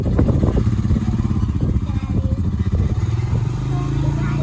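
A four-wheeler ATV engine runs close by with a steady, choppy idle and small throttle surges, loud throughout.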